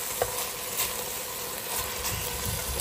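Beef cubes brown in a hot pan with a steady, close sizzle and frying crackle, a brief stir scrape near the start, and a low background hum throughout, with no talk.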